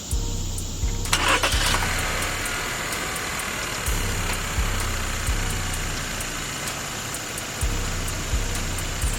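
A car engine cranks over and catches during a battery cranking test with a TOPDON TB6000Pro battery tester hooked up, then settles into a steady idle with a faint rhythmic pulse, close and moderately loud.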